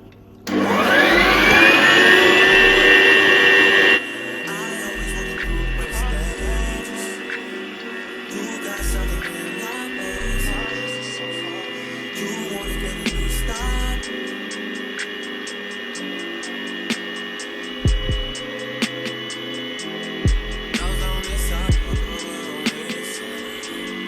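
A kitchen machine mixing waffle batter as milk is poured in, a loud whirring motor that starts with a rising whine, then settles into a steady droning hum with faint knocks and clatter, no talking.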